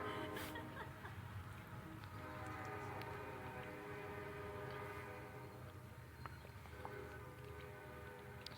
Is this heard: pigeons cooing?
no